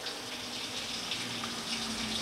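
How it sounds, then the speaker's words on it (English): Steady rushing groundwater flows continuously through tunnel drainage underground, a broad hiss with a low hum beneath, echoing as if in an enclosed space. "You can probably hear the sound of running water."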